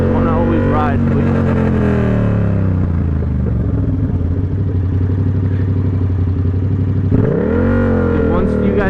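Motorcycle engine running steadily throughout, with harmonic drone shifting pitch as the rider changes speed and a clear rev rise near the end, close and loud, with someone talking over it the whole time.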